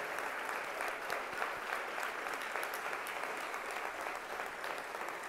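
Guests at a valedictorian lunch give a round of applause for the class of 2017 valedictorians, a sustained, even patter of many hands, fairly distant and soft.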